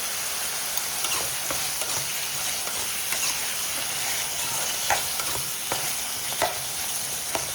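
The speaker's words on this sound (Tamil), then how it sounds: "இது கொஞ்சம் நல்லா வதங்கட்டும்." Tomatoes, green chillies and curry leaves sauté in a pan for a yam curry, giving a steady sizzle with a spatula scraping and clicking against the pan every second or so, with no talk.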